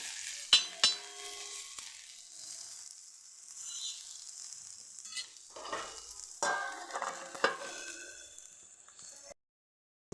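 Five or six garlic cloves stir-frying in a pan for eggplant bharit, a soft steady sizzle with occasional stirring clinks and scrapes, close by, before it cuts to silence at the end.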